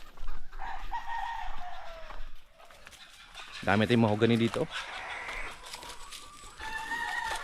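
Hens cluck and a rooster crows on a small farm, about thirty laying hens fairly close, while someone talks over them.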